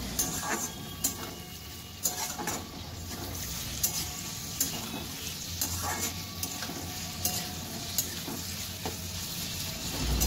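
Vegetables and potatoes for pasta sizzle steadily in a hot pan while a spatula clacks and scrapes at irregular intervals, close and continuous, with no talking.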